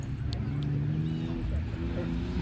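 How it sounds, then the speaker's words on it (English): Car doing a burnout, a continuous low engine roar with some tire noise and chatter from people nearby. "I'm doing a little burnout"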